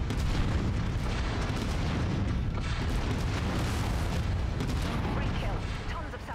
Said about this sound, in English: if you're gonna fire an AC-20, at least hit what you're shooting at